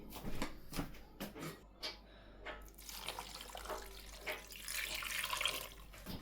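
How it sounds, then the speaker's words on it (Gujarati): Water is poured into a pot of stuffed crabs, a close splashing and trickling that grows fuller and brighter toward the end after some clattering of the pot. "ચાલો આપણે નાખી દેવાનું છે પાણી."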